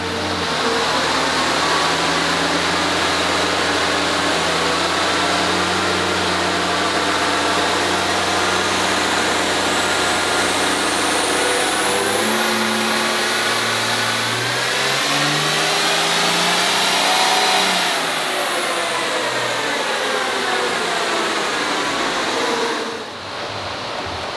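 A 2007 Dodge Mega Cab diesel truck, built to around 940 horsepower, roars under load on a dyno, with a loud, sustained engine note rising in pitch through the run before easing off near the end.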